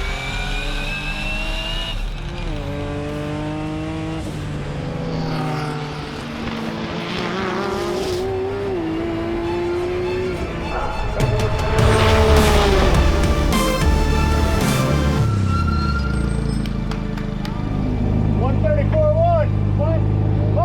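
A time attack race car, driven with hand-lever throttle and brake and thumb-selected gears, roars past with rising and falling revs, gear changes and tire squeal, loud throughout with faint voices now and then.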